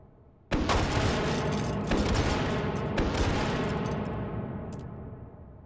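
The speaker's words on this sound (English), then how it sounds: "Those are the new ammo types for the soldier's rocket launcher." Rocket launcher blasts and explosions in a VR shooting game, with a sharp loud onset followed by several booming impacts that roll on and slowly fade.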